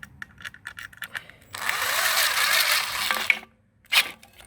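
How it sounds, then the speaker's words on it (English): A cordless drill whines for about two seconds driving a screw into a tomato trellis against a fence, preceded by light ratcheting clicks and followed by a brief second burst of the drill. "I'm gonna put a screw right here first"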